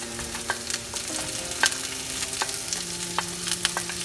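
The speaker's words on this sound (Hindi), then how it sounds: "अभी हमें 3 से 4 मिनट गाजर और बीन्स फ्राई करना है।" Carrots and green beans stir-fried in a pan with ginger and garlic for Thai pineapple fried rice: a steady sizzle with repeated spatula scrapes and stirring clacks, close and continuous, no talk.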